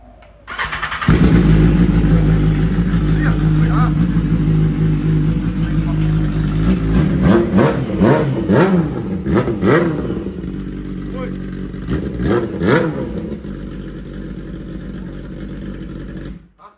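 A modified car engine cranks, catches and settles into a loud, rumbling idle, then is blipped in several sharp revs before falling back to idle, with voices talking close by.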